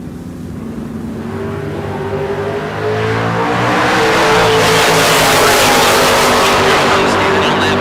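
A blue 1982 Camaro launches at full throttle in a bracket drag race, its engine roaring loud and close, rising in pitch and swelling into a sustained, heavy blast.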